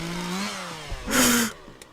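Chainsaw revving in the video game Leatherface: Shadow of Massacre, a loud buzzing surge that swells briefly midway and then drops off, with a low engine drone underneath.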